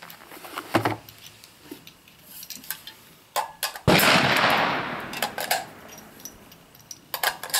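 Shots from an M1A rifle loaded with Barnes TSX hollow-point rounds, heard as several sharp cracks at a range, with one loud, close blast standing out among lighter clatter and handling noise.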